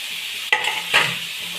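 Tomato pieces stirred into a hot pan for a capsicum carrot masala curry, a close sizzle with two sharp scraping stirs, no voices.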